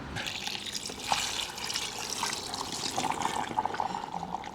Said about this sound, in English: I'm gonna add some water to help it render